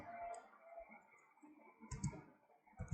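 Keys clatter as someone types on a computer keyboard while designing a flyer in Photoshop, a quiet run of close clicks that thickens into a short, denser burst near the end.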